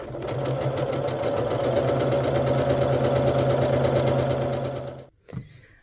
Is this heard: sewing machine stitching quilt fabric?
yes